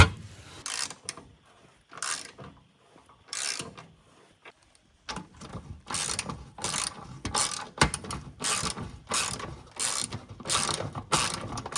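Bolts are undone with a ratchet or spanner to remove a plate from a Toyota Hilux that sat for 20 years, producing close, repeated metallic clicking bursts with short pauses between.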